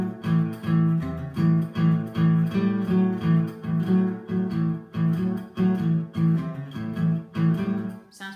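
An acoustic guitar chugs through a fast, repeating boogie pattern, steady pulsing strums rising and falling in even rhythm, close and fairly loud.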